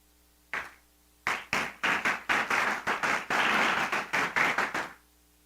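A church congregation bursts into applause during a sermon: a short lone clap, then a dense run of rhythmic hand claps lasting several seconds before stopping abruptly, fairly close and without speech.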